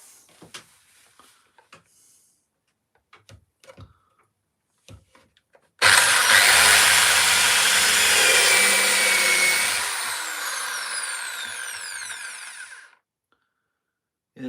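A power drill bores into wood for a woodcarving project, a loud continuous whine lasting several seconds that trails off, preceded by quiet knocks and handling clicks.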